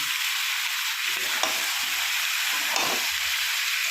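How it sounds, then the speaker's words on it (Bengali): Chopped onions and chicken for hariyali chicken fry in a pan, a steady loud sizzle with a couple of scraping stirs, no voices. "এই চিকেনগুলো ভাজতে বলছে পেঁয়াজটাও ভাজবো"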